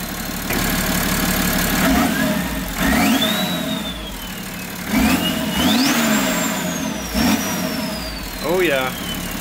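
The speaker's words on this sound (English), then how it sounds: "let's fire this baby up" BMW M57 3.0-litre twin-turbo six-cylinder diesel, fitted in a Volkswagen LT40 4x4 conversion, cranks and fires, then revs in several rising bursts with turbo whistle, close and loud, while people talk and cheer over it.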